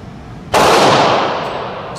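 A single loud 12-gauge blast from a VEPR shotgun fired outdoors, a sharp sudden report at close range followed by a long decaying rumble, with no talk over it.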